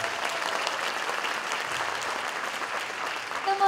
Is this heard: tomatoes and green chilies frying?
no